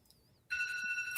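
A telephone rings with a steady electronic tone that starts abruptly and holds loud and close for under a second, after a faint warbling tone.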